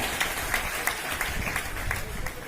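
An audience at a seminar claps together in a quick, even rhythm of sharp, fairly close hand claps, with a person talking over the applause.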